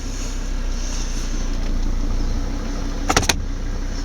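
A Mercedes CLK 270 CDI diesel engine idles with a steady, even low hum from inside the car, and a short whirring mechanical burst sounds near the end.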